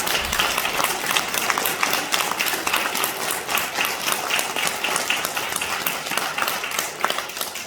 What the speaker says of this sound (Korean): 우리 뜨겁게 박수로 축복하겠습니다